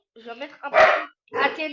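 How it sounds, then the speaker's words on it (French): A pet dog barks indoors, a few sharp yelps and barks in quick succession, close by, alternating with someone speaking French. "arrête d'aboyer. Bon, désolé les gars, c'est mon chien."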